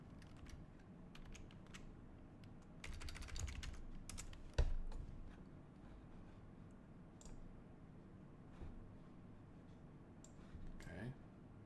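Quiet clatter of keys on a computer keyboard: irregular bursts of rapid clicks with pauses and one sharper knock midway, set against low room noise, with a voice speaking at times.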